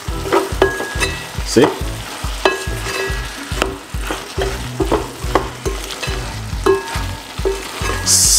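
A spoon stirring eggplant stew in a pot, loud rhythmic scraping and knocking over a constant sizzle, with a brief spoken word.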